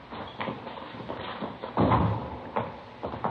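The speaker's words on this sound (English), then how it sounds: "Here, I'll get the door." A door opens and closes in a school hallway between class periods, giving a short thump and latch near the middle, with light shuffling and faint handling noises around it and no speech.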